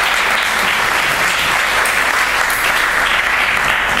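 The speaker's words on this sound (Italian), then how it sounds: "Ringraziamo il rettore con un applauso" Loud, dense applause from a university audience welcoming the rector at a talk on living with earthquakes, many hands clapping steadily and close for a few seconds with no speech over it.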